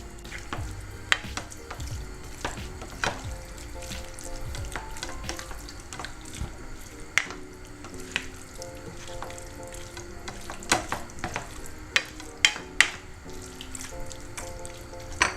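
Hot dog pieces fry in a pan for creamy spaghetti, a continuous close sizzle broken by frequent sharp clinks and scrapes of stirring, with no talk.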